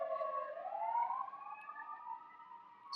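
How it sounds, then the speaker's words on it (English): A siren rises and wails steadily in the distance, a moderately faint passing emergency tone sliding up in pitch and holding, with no talk over it. "I just want the siren to pass"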